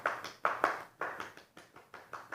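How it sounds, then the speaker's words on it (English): Hands clap against a bare foot in a gentle yoga practice for beginners, about ten soft, evenly spaced slaps with a quick decay, close and fairly quiet, with no talking. "pound your foot, and clap your foot"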